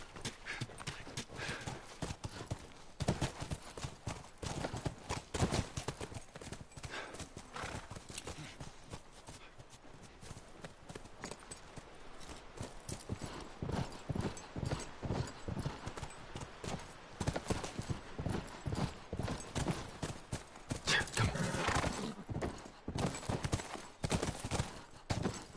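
Horse hooves clip-clop in a PlayStation 5 video game, a steady rhythmic trotting close by that runs the whole time, with occasional louder bursts and a brief whinny.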